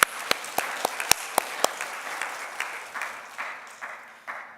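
Applause from a church congregation during a sermon, a few sharp claps at first swelling into a steady patter that fades out gradually, heard at moderate distance with no voices over it.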